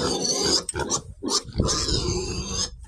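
Pigs grunting and squealing up close, a run of rough snorts and higher squeals with brief gaps.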